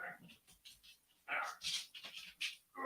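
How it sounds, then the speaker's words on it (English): Two dogs indoors pant and whimper in quick bursts, with breathy huffs and thin whines coming close together, near and fairly loud in short clusters. "The dogs are having fits."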